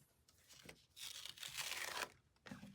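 Backing paper peeled off a fused fabric walrus applique, a crisp tearing crinkle lasting about a second, close and fairly quiet, with a shorter rustle at the end.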